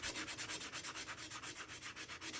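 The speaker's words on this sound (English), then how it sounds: "I'll sand it smooth with a sanding block." A sanding block rubs back and forth over wood putty in a quick, steady rhythm, close and fairly quiet, with no talking.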